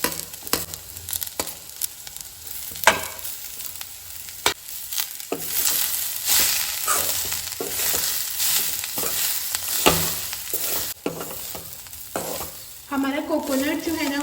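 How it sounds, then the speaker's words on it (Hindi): Grated coconut fries with onion and green chili in a pan, sizzling steadily while a spoon stirs and scrapes in frequent sharp strokes, close up and with no voices. "हमारा कोकोनट जो है ना वो अच्छे से यहाँ पे फ्राई हो चुका है।"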